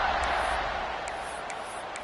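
A stadium crowd at a UCF versus Kansas State college football game keeps up a steady, broad roar, with faint high whistles standing out above the din.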